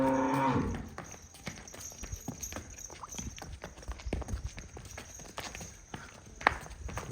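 A heifer lows briefly at the start, followed by scattered hoof clops and shuffling steps on hard ground, fairly close.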